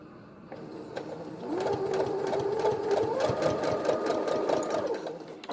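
A sewing machine stitches a fabric face mask, backstitching over the elastic, in a steady rapid whir that speeds up partway through and stays close and clear with no talking.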